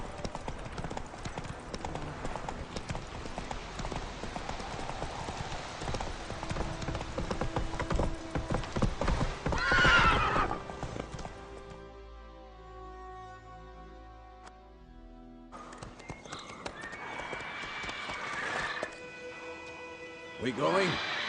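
Roach, Geralt's horse in The Witcher 3 video game, gallops with steady rapid clip-clop hoofbeats through most of the run, mixed with game sounds and voices, then slows before the hooves pick up again near the end.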